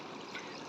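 Flowing water of the Betwa river at Kanchana Ghat in Orchha, a faint, steady trickling and rushing murmur that holds evenly throughout with no voices.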